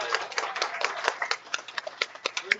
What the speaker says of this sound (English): give our competitors another round of applause